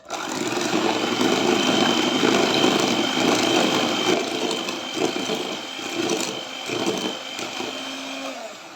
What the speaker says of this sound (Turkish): Şimdi yine bir dakika kadar çırpacağım.